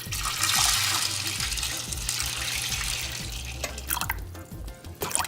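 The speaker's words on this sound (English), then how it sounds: "and I'm going to add some water." Water pours steadily from a tap into a pot of drained pinto beans, a continuous splashing rush with small gurgles, tapering off toward the end as the flow stops.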